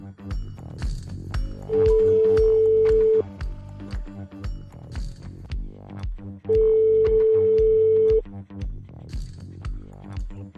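A telephone ringing on a live radio show call-in, two long steady ring tones separated by a pause, heard over background music with a low rhythmic beat.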